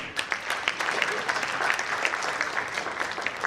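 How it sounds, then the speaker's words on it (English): Sustained applause from an audience at an HR conference talk, a thick wash of rapid claps from many people, even and fairly loud throughout, with no speech. "Please, another round of applause for her."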